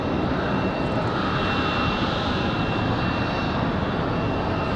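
An Embraer E190 jet airliner at Raleigh-Durham airport produces a dense, steady engine roar, loud and continuous with a thin high whine, alone without voices.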